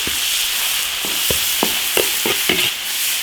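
Pork belly stir-fried in oil in an iron wok, with a steady sizzle of frying throughout and a series of sharp scrapes and clanks of a spatula stirring, roughly every half second in the latter part.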